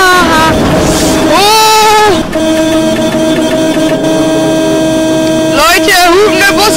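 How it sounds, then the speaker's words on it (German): A bus horn honking in a video game, loud sustained tonal blasts at the start and again near the end, with a steady engine drone between and a person talking over it. "Leute, hupende Busse muss man durchlassen!"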